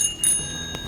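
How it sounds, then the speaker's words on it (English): A single bicycle bell ding rings out close and clear, its metallic tone sustaining briefly. "you must ensure your bike has a bell to alert other road users of your presence"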